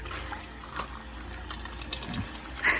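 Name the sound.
washing down a caravan with water in the rain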